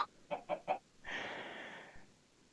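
Chickens in the Minecraft video game cluck in three quick, soft pecking clucks followed by a longer drawn-out squawk, faint and alone.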